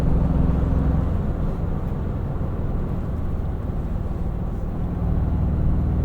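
A 2025 Toyota 4Runner Off Road Premium SUV drives off road, a steady low engine and tyre rumble with broad road noise heard from inside the cabin, continuous and even throughout.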